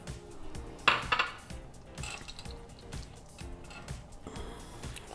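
Keto crust crumbs for gingerbread cheesecake bars being stirred with cooled melted unsalted butter in a bowl, giving close, repeated scraping and clinking of a utensil against the bowl, with a louder burst of clatter early on.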